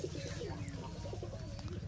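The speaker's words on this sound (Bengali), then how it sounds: "তোমরা এখন কবুতর দেখাইলাম, অনেক রকমের কবুতর, অনেক রকমের" Pigeons at a small zoo coo in low, soft, repeated murmurs, fairly faint and mixed with light background chatter and ambient noise over the short stretch.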